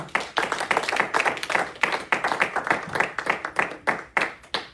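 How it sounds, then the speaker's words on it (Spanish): A church congregation claps together in a quick, steady rhythm, close and fairly loud, with no voices heard. "Así que denle un aplauso al Señor."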